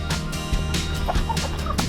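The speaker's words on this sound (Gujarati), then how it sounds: "દેશી કુકડો" A native desi rooster on a village farm calls loudly and close, in a rough, warbling burst of calls with no talk.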